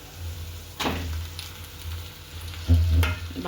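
Ambadi leaf greens dropped into a pan of frying onion give off a soft, steady sizzle near the microphone, broken by two sharp stirring clatters.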